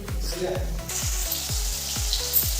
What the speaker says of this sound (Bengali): আলুটা একটু লাল লাল করে ভাজা করে নিই